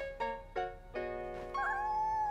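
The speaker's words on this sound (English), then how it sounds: "It's a kitten!" A young kitten newly brought home from an animal shelter gives several short, high meows, then a longer drawn-out one, fairly faint and close in a quiet indoor cartoon scene.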